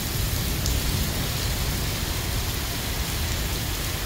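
Heavy storm rain pours down in Rome, New York, during a suspected macroburst, a dense, steady roar of rainfall close by with no talking.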